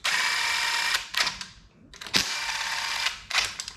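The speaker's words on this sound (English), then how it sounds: "There's no torque on this thing at all. I have it on the lowest setting." A power driver on its lowest torque setting runs down a bolt on a Yamaha F250 outboard power head, giving a few bursts of whirring, ratcheting mechanical buzz broken by short pauses, close and moderately loud.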